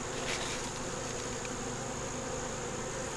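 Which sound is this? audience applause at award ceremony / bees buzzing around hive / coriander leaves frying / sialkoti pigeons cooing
bees buzzing around hive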